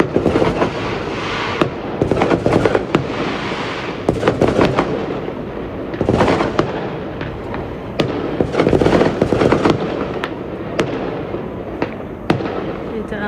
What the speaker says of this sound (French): Littéralement des feux d'artifice partout.